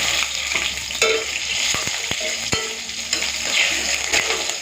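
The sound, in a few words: nigella seeds and green chillies sizzling in hot oil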